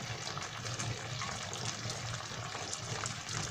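Warm water pours steadily into a pot of ogbono soup, a continuous splashing gush that runs unbroken and fairly loud throughout.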